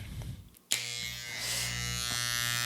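A soft rustle, then electric hair clippers switch on with a sharp click and hum steadily, close and continuous.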